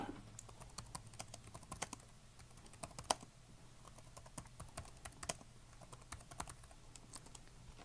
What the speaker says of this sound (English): I can't type at this angle.